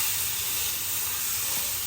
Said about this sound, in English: And get them both searing off.